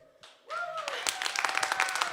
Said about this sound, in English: An applause for Tobias production.